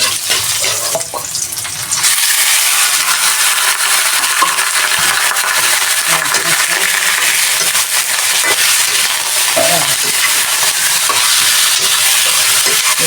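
Chicken pieces fry in their own fat with a little oil in a pan, giving a loud, continuous close sizzle with occasional stirring scrapes and clinks.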